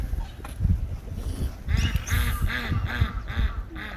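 Ducks quack in a loud, close burst of overlapping calls beside other waterfowl at a pond, with a few honk-like notes and a brief voice in between.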